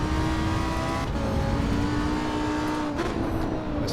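Lamborghini Huracán SVO engine at full song on the Nordschleife, a continuous high-pitched V10 wail held steady from inside the car, with a brief dip and shift around the three-second mark, loud and alone.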